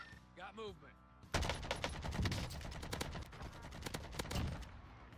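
An anti-air gun fires in the Warzone video game, a loud rapid burst of repeated shots that starts abruptly and keeps going, following a moment of speech beforehand.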